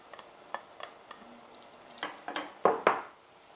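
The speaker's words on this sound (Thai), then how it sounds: "เราจะผัดให้หนังไก่คายน้ำมันออกมานะคะผัดไปมาแบบนี้ค่ะ" A spatula scrapes and clacks against a pan as chicken skin is stir-fried to render its fat, light taps building to a few louder scrapes near the end.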